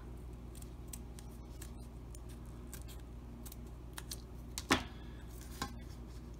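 Scissors snipping and trimming a printed design for a Valentine's Day tumbler: faint, scattered close-up cuts over a low steady hum, with one louder sharp snip and a few lighter ones near the end, no talking.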